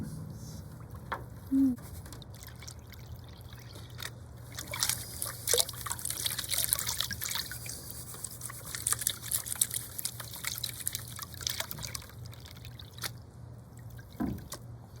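Cold tap water trickles and splashes steadily into a bucket while paydirt is rinsed, a continuous close liquid pour with a few louder surges and no talk.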